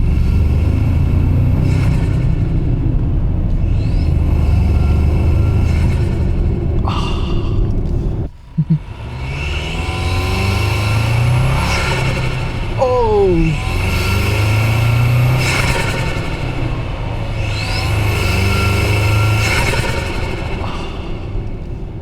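A 2024 Toyota Tacoma fitted with a K&N cold air intake rumbles loudly and revs in repeated surges, with a deep, steady engine drone and a brief dip partway through.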